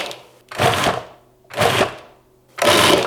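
A food processor pulses a salmon burger mixture with beaten egg in three short, separate bursts of whirring motor and chopping blade. Each burst lasts about half a second, with brief quiet between them.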